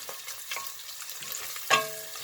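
Minced meat with butter and sweet peppers fries in a pan as a soft, steady sizzle. A brief louder crackle rises midway, maybe as the peppers go in.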